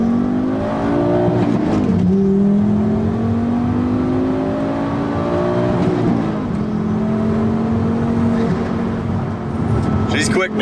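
A 400+ horsepower all-wheel-drive Volvo accelerates hard, its engine note climbing steadily through the gears with brief dips at the shifts, loud and close from inside the cabin.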